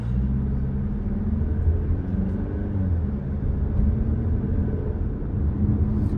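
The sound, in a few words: 2021 Jeep Compass driving on test drive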